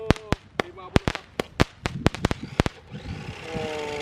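A mini cake of firecrackers fires off on a remote control car, a rapid run of about a dozen sharp, close bangs in uneven rhythm, fading into crackle and hiss at the end, with people talking underneath.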